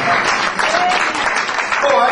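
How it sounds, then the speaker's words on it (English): A church congregation claps at a sermon. The dense applause is loud and sustained, with voices mixed in among the clapping. "Clap your hands that God is still with you."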